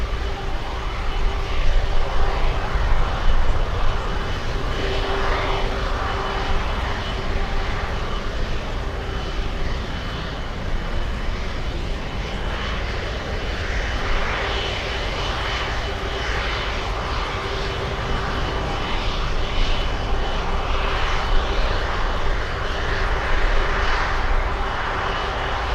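Air France flight 92 coming in to land at Miami International, a loud, steady airliner engine roar with a whining tone that holds for the whole stretch and swells slightly toward the end, with no talk over it.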